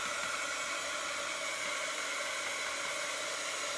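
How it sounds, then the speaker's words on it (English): A Pro Heater hair dryer runs steadily close by, a constant loud whooshing blow with an airy hum and no pauses. "So I'm just taking my dryer."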